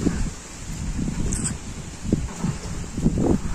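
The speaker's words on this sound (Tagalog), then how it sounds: "Lakas ng hangin." Strong wind buffets the microphone in heavy, uneven gusts, a rumbling roar that swells and fades with faint rustling.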